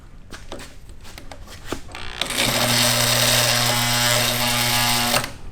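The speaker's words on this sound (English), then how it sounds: "Here we go. Bigger drill." A bigger drill spins up near a custom V8 built from lawn mower engines, preceded by a few clanks and handling noises, then whirs steadily and loudly for about three seconds before stopping.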